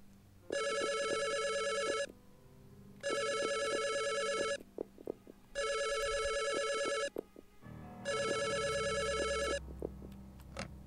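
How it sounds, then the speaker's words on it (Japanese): Telephone ringing in the horror video game Yoiyami no Kage: four loud electronic ring bursts of about a second and a half each, spaced evenly with short gaps, a faint low rumble and small clicks between them. "どの電話が鳴ってんだ"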